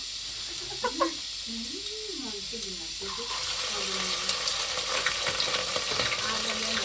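Food fries in a pan, at first quiet under a voice, then a steady bright sizzle swells up and holds, with a few soft stirring scrapes near at hand.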